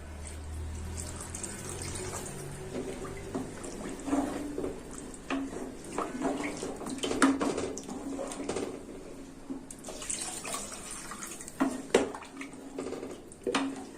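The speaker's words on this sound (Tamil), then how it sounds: "இப்போ நம்ம தேவையான அளவு தண்ணி சேர்த்திக்க போகிறோம்" Water pours steadily into a cooking pot while preparing goat leg soup, a soft continuous splashing stream heard up close with no talking.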